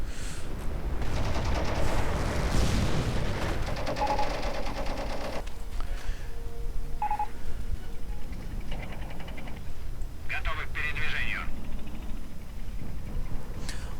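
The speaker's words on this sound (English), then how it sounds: "More Katyusha fire on the Grenadiers." Katyusha rockets and machine guns fire in a Company of Heroes battle, with rapid rattling bursts and dense, steady explosive rumble over a continuous game soundscape.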